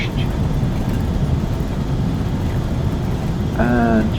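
Jet engine roar in a flight simulator as an Embraer ERJ 145 lands with spoilers up and thrust reversers engaged, a steady broad rumble throughout with a brief tonal whine near the end.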